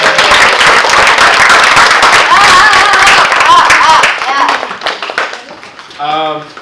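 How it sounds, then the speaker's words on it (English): Audience applause after the last presentation of a tech camp at TCNJ: loud, dense clapping from a crowd for about four seconds, then thinning out as a voice begins speaking near the end. "So let's give everyone a round of applause again."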